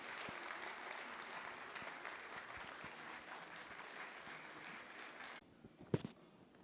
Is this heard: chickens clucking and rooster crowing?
no